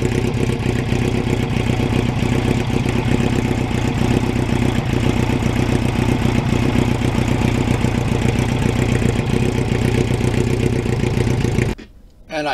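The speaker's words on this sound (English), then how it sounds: "I do love the sound of that Norton muffler from Dime Cycle." A 1989 Kawasaki GPX750R motorcycle fitted with a Norton muffler drones steadily and loudly while riding, its engine note holding even throughout before cutting off abruptly near the end.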